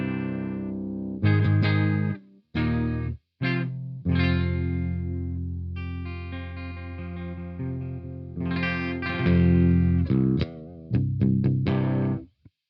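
Clean electric guitar signal played straight into an amp ahead of a Joyo Crunch Distortion pedal, ringing sustained chords and single notes with a few short pauses, loud and up front with no talking.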